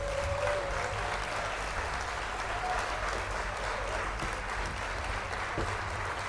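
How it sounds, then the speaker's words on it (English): Canned audience clapping from a sound effect, a steady wash of applause at moderate volume lasting several seconds, with no voices over it. "Let me just do this audience clap."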